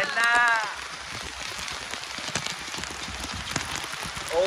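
Steady rain patters on a surface, close by, with a voice speaking briefly at the start and end.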